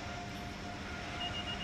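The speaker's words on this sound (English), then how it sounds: "while you're sitting on this slow moving train" An Acela Express train in Train Sim World 5 rolls slowly between Providence and Boston, giving a low, steady, quiet rumble of running gear with a faint high tone.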